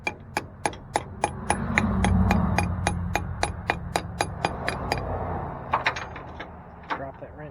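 Hammer blows ring sharply and steadily on the metal of a cheap secondhand dump truck, coming in a fast, even series of about two dozen strikes with a few faint voices underneath.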